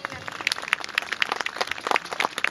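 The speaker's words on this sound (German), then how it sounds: "ich möchte das Publikum einfach mal ermuntern, hier für einen Applaus zu geben" An outdoor crowd at a drag hunt show with a hound pack gives scattered, uneven applause, individual claps standing out distinctly and fairly close, with some talk mixed in.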